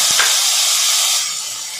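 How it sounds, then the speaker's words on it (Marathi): Onion frying in a pan, cooked until reddish: a loud, steady, close sizzle and hiss that fades slightly toward the end. "व हा कांदा आता लाल होईपर्यंत परतून घ्यायचा आहे"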